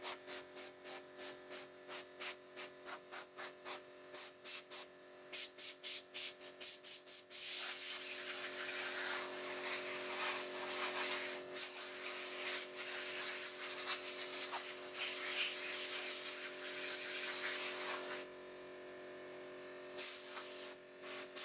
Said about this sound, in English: Then I take some compressed air and I try to make all the dust inside the vacuum to go away